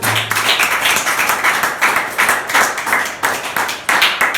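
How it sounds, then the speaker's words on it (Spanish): A church congregation claps in rhythmic, pulsing bursts, close and loud, with regular accented beats repeating across the clip and no speech. "Denle un aplauso a Jesús"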